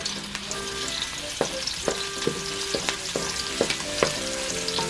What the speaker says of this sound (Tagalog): At ngayon, uumpisahan na po natin sa paggigisa ang ating bawang.